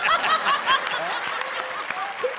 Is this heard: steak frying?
no